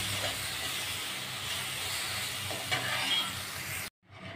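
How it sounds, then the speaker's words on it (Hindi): Tomatoes fry in a pan with masala for a lady finger masala gravy, giving a steady close hiss and sizzle throughout. The sizzle cuts off abruptly near the end and then resumes more faintly. "अभी अच्छी तरह से टमाटर भी इसे फ्राई कर लूँगी।"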